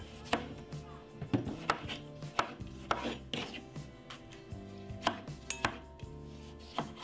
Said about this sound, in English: That's the way I'm gonna cut my tomato them.